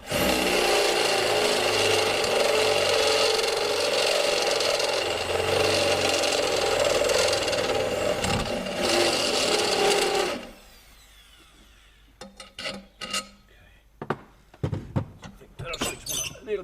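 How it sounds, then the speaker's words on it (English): Reaming a hole to fit a longer tow bar on a SISIS top dresser: a loud, steady grinding power-tool roar for about ten seconds, then it stops, leaving quieter scattered knocks and scraping. "I might have to ream it a bit more."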